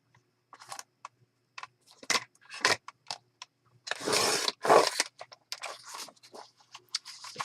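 Paper being scored and trimmed for a handmade faith-based mini journal, heard as scattered short scraping and tapping strokes with a longer rasping pass midway, close and fairly quiet with no talking.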